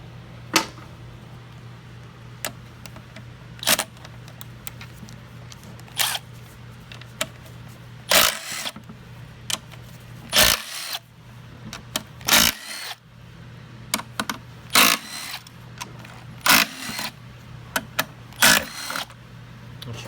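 Bolts come off the front clutch-pack cover of a Nissan Sentra/Versa RE0F11A (JF015E) CVT with a 16 Torx driver: sharp metallic clicks and clanks arrive every second or two over a steady low hum, with no talking.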